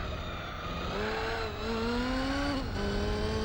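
A race car engine in Gran Turismo 4 on PS2 whines through rising gear pulls, with two distinct upshifts dropping the pitch before it climbs again, steady and fairly loud, no talk.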